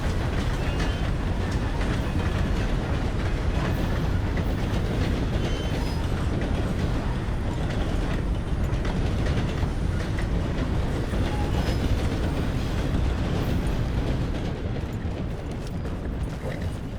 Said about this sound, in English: wasn't there a train that just came from the other direction?